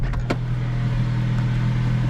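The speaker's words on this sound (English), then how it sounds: "I have an exhaust leak." A car engine with an exhaust leak idling up close with a steady low hum and a faint ticking puff in the exhaust, plus a brief click near the start.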